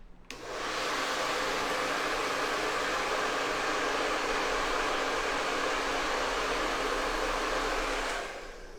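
Hair dryer switched on for styling long hair, a steady loud whooshing blow that starts abruptly, holds evenly for about eight seconds, then cuts off, with no talking.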